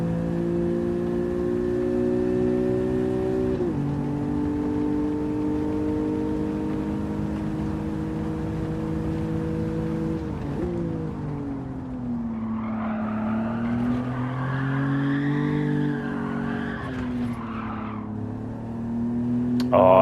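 A 1973 Nissan Skyline 2000GT-R in Gran Turismo 7 holds a loud, steady engine drone that shifts pitch through gear changes, then rises and wavers as a higher tyre-scrubbing squeal joins in mid-slide.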